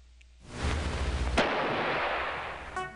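Musket volleys from the Civil War Generals 2 strategy game at the Battle of Seven Pines: a sustained crackling burst of rifle fire rolling for over two seconds, with a sharp louder shot near the middle, and no talk.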